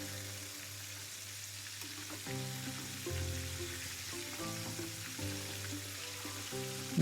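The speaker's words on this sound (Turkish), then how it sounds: "Mümkün olduğu kadar derin bir yağın içerisinde kızartmamız lazım." Pieces of chicken burger deep frying in hot oil give a continuous soft sizzle and crackle, steady and close, under background music.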